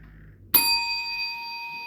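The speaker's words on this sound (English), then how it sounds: "That's the sound of the bell" A single bright bell ding strikes sharply and then rings on with a sustained, slowly fading metallic tone, standing alone after near silence.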